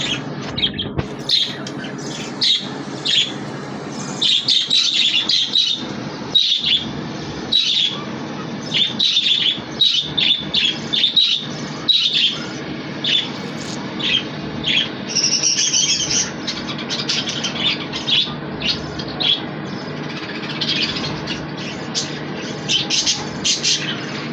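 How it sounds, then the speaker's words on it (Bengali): Pet birds kept in clay breeding pots chirp and squawk constantly, with many overlapping high, busy calls close by in bursts throughout. "বলেন পাখিগুলো কীরকম লাগে"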